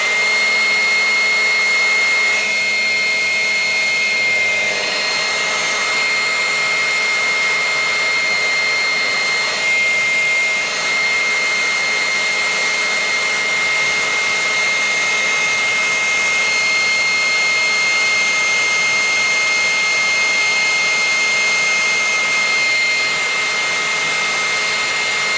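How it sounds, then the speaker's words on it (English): A hairdryer blows hot air to heat-shrink tubing while a beetleweight combat robot is being built, a loud, steady whooshing drone that runs unbroken for the whole stretch with no voices. "But one thing I just tend to use is a hairdryer."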